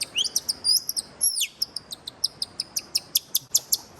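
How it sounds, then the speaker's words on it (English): A bird calls close and loud with a few rising and falling whistles, then a steady run of sharp, evenly spaced chirps, clear over a quiet background. "is that damn bird?"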